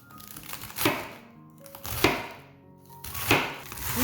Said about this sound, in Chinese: 这里的高丽菜我已经清洗好了，这里的分量是320克。 现在把它切成丝